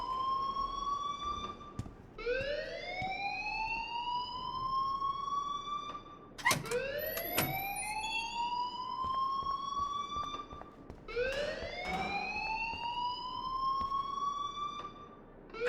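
A fire alarm wails in Life is Strange Remastered, a loud rising siren that repeats in long sweeps, about every four seconds, with brief clatters between cycles and no voices.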